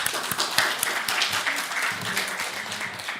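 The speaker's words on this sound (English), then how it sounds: "I think you deserve a round of applause." A crowd claps steadily, a dense patter of many hands applauding continuously without voices.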